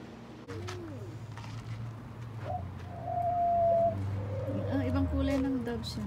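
Doves of another color cooing near a cactus garden in Palm Springs, several low hooting calls repeating under and between people talking nearby.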